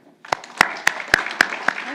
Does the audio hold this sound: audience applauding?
yes